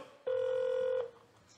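A single loud telephone ring, one steady electronic tone lasting under a second, signals a live on-air phone call in a comedy stage sketch, with quiet room sound before and after.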